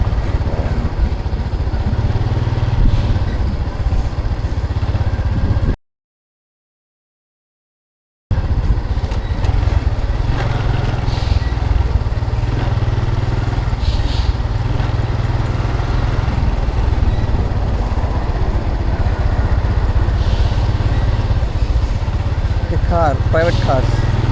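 A motorcycle engine drones steadily at close range with a constant low rumble near the Chiang Khong–Houayxay border crossing between Thailand and Laos; the sound cuts out briefly and then resumes.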